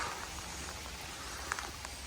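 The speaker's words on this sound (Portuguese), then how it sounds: "E a chuva tá muito forte mesmo." Heavy rain falls steadily in a dense, even hiss, with a few louder drops standing out near a building site where rebar and formwork are being assembled.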